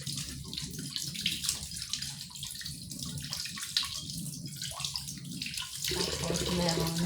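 Tap water running into a sink while okra is washed, a steady splashing stream with shifting gurgles that grows fuller near the end, with a soft voice in the background.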